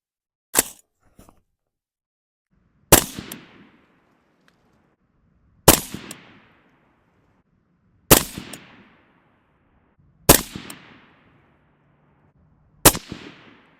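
An AR rifle fires five separate rounds at a 100-yard range, each a sharp, loud crack with a short decaying tail, spaced a few seconds apart against near silence.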